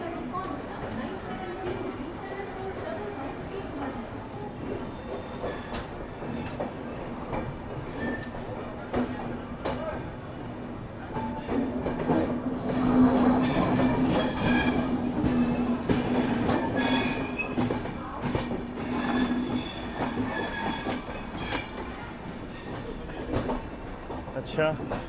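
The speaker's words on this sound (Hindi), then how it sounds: "केरला एक्सप्रेस आ रही है प्लेटफॉर्म नंबर 2 पे, नई दिल्ली तिरुवनंतपुरम सेंट्रल" Kerala Express, a New Delhi to Thiruvananthapuram Central passenger train, pulls into platform 2, its wheels squealing in a long sustained tone over rumbling carriages, with station chatter and voices in the background throughout.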